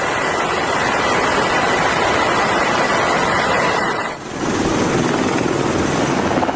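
Helicopter over a cargo ship during a seizure, a loud, continuous rotor and engine roar with rushing noise. The sound shifts abruptly partway through and carries on without talking.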